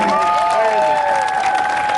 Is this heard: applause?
yes